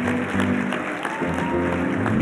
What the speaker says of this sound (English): Stand up and give a big round of applause for Bob Hope's nephew here.